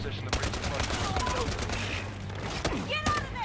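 Gunfire from a G16 pistol in Battlefield Hardline, a string of sharp shots in an uneven rhythm, loud and close, with busy combat noise around them.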